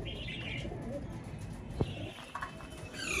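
Pigeons in a home loft coo softly in short bursts with some chirps, mixed with a faint flutter and background household noise.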